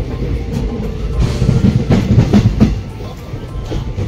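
Steady rumble and rhythmic clickety-clack of wheels heard from inside a moving Balurghat Intercity passenger train, loud and continuous with faint background noise from the carriage.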